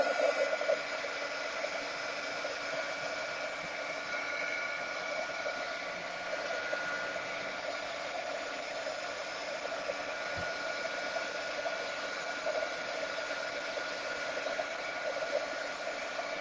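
A dryer blows steadily on misted paper flowers, giving an even, continuous whooshing hum at moderate loudness from start to finish, with no talking.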